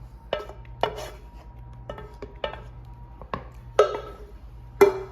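Cooked hamburger meat seasoned with taco seasoning is tossed into a bowl, heard as a series of separate sharp clanks and knocks of a utensil against cookware, close by with quiet gaps between them.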